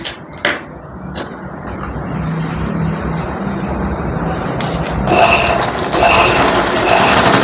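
A sewing machine runs steadily with a mechanical whir and rattle while stitching a zigzag seam, with some clicks and handling noises and a louder, brighter stretch near the end.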